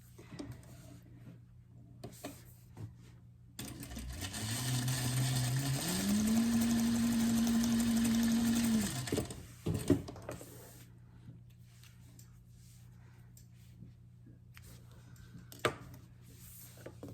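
A sewing machine stitches two fabric parts of a frog plush together, a steady mechanical whir running for about five seconds at moderate loudness before stopping, with quiet handling noise around it.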